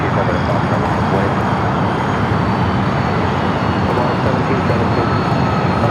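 A cargo airplane touches down on the south side runways at Los Angeles International Airport, a steady, loud broadband engine roar that holds without letup throughout.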